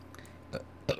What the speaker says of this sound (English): Oh, burps.